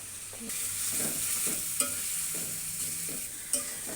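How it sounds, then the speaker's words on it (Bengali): Chili, onion, garlic, ginger and raw and roasted cumin paste sautéing in a pan for duck curry, a constant close sizzle broken by repeated scraping stirs and a couple of sharp spoon knocks. "শুধু মরিচটা আর পেঁয়াজ রসুন আদা কাঁচা জিরা এবং ভাজা জিরা এই দুটো দিয়ে কষানো হচ্ছে"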